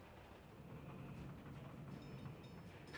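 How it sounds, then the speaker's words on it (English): A train rumbling along in the Workers & Resources: Soviet Republic video game, a steady low rolling drone with faint metallic clicks and squeals, moderately distant and unbroken by talk. "I'm just going to follow this train and I'll be back once he gets to wherever he's going"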